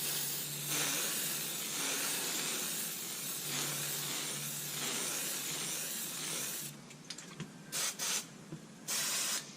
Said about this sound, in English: Just gonna spray these U-bolts down, brake line